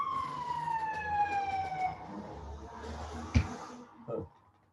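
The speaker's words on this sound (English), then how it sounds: "the ambulance is coming back" An ambulance siren wails past outside a lecture room, its falling tone sweeping down as it recedes, moderately loud at first and fading, with a thump and faint room noise near the end.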